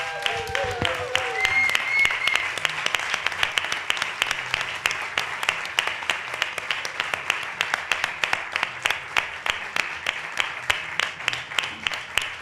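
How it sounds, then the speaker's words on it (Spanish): Audience at a round-table panel bursts into sustained applause, dense clapping from many hands filling the room for over twelve seconds, with a brief voice and a whistle-like tone near the start. "Y creo que se merecen un aplauso tremendo todos los que están aquí"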